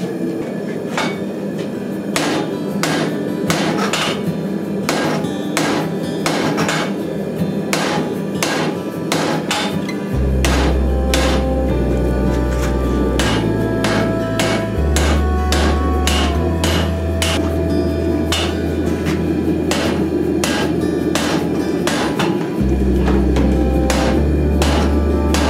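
Hammer blows ring out in a steady rhythmic series as 5160 steel is forge welded to bandsaw blades, loud and close, with a deep machine hum droning underneath for stretches.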